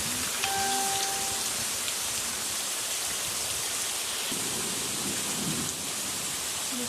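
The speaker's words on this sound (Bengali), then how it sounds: "এখানে অবস্থা ভালোই জোরে বৃষ্টিটা পড়ছে" Heavy rain pouring steadily onto a house courtyard that is close to flooding, a loud, constant dense hiss lasting throughout, with a faint low rumble in the background.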